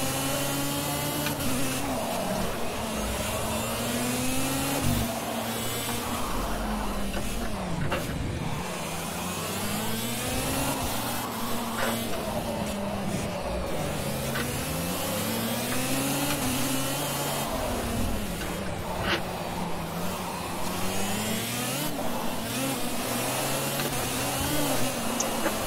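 Several racing kart engines in Project Cars buzz continuously in a UK kart championship race, with pitch rising and falling in repeated rev cycles as the karts accelerate and brake, loud and steady throughout with no talk.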